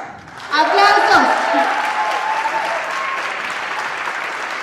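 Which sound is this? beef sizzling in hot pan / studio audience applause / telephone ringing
studio audience applause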